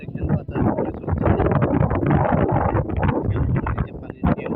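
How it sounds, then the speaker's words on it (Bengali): Wind blowing outdoors beside water, loud and buffeting across the microphone in gusts, rushing hard with a brief dip near the end. "বাতাস বয়ে চলছে"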